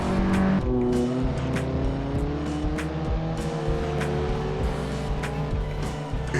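A 9th-generation Honda Civic Si coupe is driven in the racing sim Assetto Corsa, its engine droning steadily and rising and falling in pitch through the gears, with tires squealing through corners, loud and continuous, no voices.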